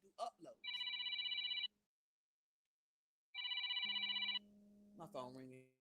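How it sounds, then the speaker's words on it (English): A phone rings twice in a sharp, electronic trilling pattern, each ring about a second long with a pause between, fairly close and loud, followed by a short tone and the start of a voice. "My phone ringing."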